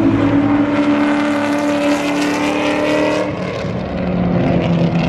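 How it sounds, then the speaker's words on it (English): Race car engine at a Buttonwillow track day, a loud sustained roar as it passes a loud Ford Mustang, close and continuous with steady engine tones throughout. "He just passed that loud Mustang."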